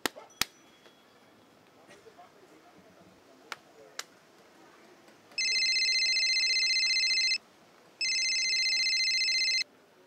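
A telephone rings in a Bangla drama scene: a few faint clicks and taps come first, then two long, loud electronic ring bursts separated by a short gap.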